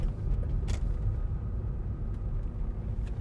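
A 2007 Chevrolet Corvette 3LT accelerating up to 55 miles an hour, a steady low engine rumble with road noise from inside the car, continuous and fairly loud, a few faint clicks on top.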